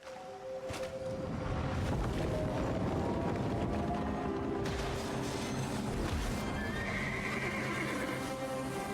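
A horse in a video game whinnies loudly and close, a shrill wavering neigh followed by snorting and shuffling hoof noise over a faint ambient backdrop, with no talk.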